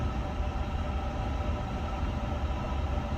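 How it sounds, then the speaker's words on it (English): An Airbus A350-900 auxiliary power unit runs in a flight simulator, giving a loud, constant droning rumble with a steady hum and no breaks throughout. "that APU is loud as heck"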